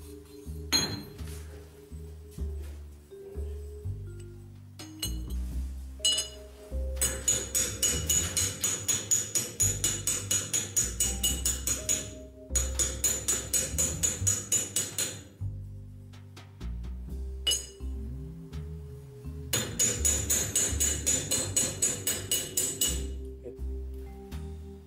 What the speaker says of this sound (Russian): Начинаем запрессовывать первую обойму.